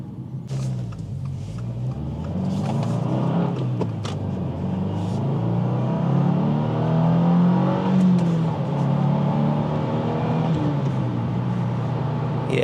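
A 2025 Subaru WRX tS engine accelerates through its gears, a steady rumbling drone that rises in pitch and drops back at the shifts, heard from inside the car with no talk.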